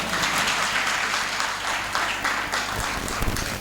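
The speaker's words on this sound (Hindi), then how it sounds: "अभी ताली बजाओ ना।" Audience applause at a morning religious discourse, a sustained wash of clapping from a crowd that runs throughout the clip at fairly even loudness.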